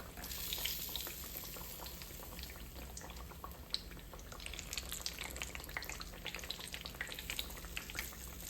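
Homegrown squash slices frying in a pan, a steady quiet sizzle with scattered crackles and spits, close and continuous with one sharp click midway.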